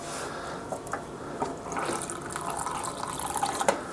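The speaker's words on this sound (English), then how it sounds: "Now I'll put cool water in that" Cool tap water pours steadily from a kitchen dispenser into a container holding cornstarch, a constant splashing hiss with small gurgles and no voices.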